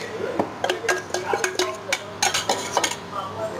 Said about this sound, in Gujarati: હવે આ ચટણી વાળામાં તમને બધું મિક્સ કરી નાખીએ. એમાં તેલ, તલ, આ મસાલો ને આ ધાણાની ચટણી.